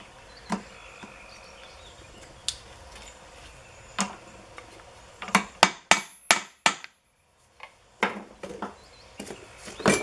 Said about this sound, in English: So I drove my 2 bearings down.